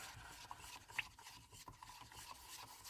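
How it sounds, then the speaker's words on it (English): Polyurethane resin with neon pigment stirred by hand in a cup, a faint close scraping and rubbing with soft irregular taps, no talk. "Let's get it stirred up."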